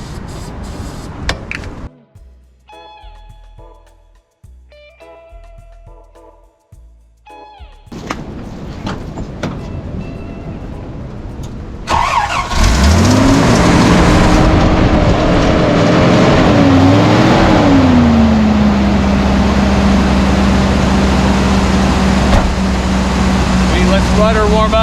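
1983 Toyota Land Cruiser FJ60 with a hard-start problem, given starting fluid: after some clunks and a door slam, the engine cranks, catches and roars into loud revving, rising and falling before settling at a high steady run.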